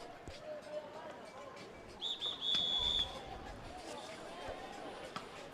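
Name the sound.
referee's whistle starting a canoe polo match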